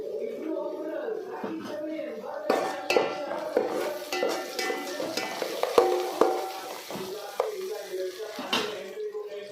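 Turmeric and spices frying in a pan for an Andhra-style chicken curry, with a soft steady sizzle broken by clanks and scrapes of a stirring spoon against the pan, fairly quiet throughout.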